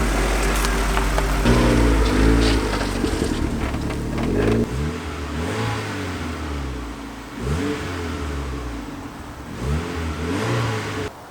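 A turbocharged Honda Civic engine idles roughly, then revs up and falls back several times in repeated bursts, close by with no talking.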